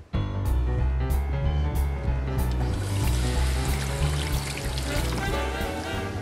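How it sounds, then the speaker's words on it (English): Hot water poured into pans of dried prawns in a kitchen, a steady close splashing and gurgling pour running continuously for several seconds. "Then I need to add water, hot water, to both of these pans."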